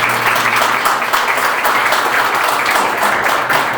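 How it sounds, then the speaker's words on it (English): Audience applause fills a San Pedro Town Council meeting room, dense continuous clapping from many hands at an even, loud level with little speech. "ask for a round of applause for the auditors that are here today"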